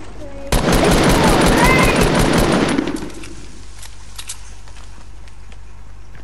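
Automatic gunfire in the Fortnite video game, fired at a tree: a loud, dense burst of rapid shots lasting about two and a half seconds, then dropping away to quieter game ambience.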